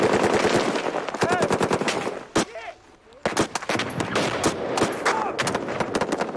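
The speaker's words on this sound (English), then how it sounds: "they're shooting them goddamn RPGs right fucking here, dude" Combat gunfire in Afghanistan, rapid loud machine-gun bursts and repeated sharp shots close by, with a short lull before the firing resumes and shouted voices mixed in.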